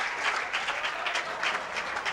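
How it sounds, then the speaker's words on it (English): Steady applause from a crowd at a bowling alley during a 1997 World Team Challenge match, dense clapping with small swells, continuous throughout with no talk. "Well, everybody but his team was clapping."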